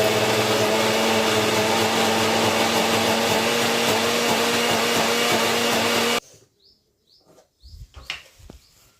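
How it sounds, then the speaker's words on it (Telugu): A kitchen mixer grinder runs loud and steady, grinding roasted whole spices including cloves, cinnamon and coriander, then cuts off abruptly, leaving a few faint knocks and bumps. "మిక్సీకి అయితే వేసుకుంటాం."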